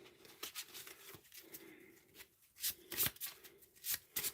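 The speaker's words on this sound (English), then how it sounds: "Shuffle the cards back in." Playing cards are shuffled in quick riffling bursts, soft and close, with short pauses between several rapid flurries during a Skies Above Britain game.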